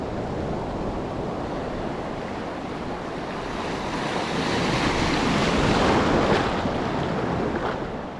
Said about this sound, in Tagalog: Uy, alon.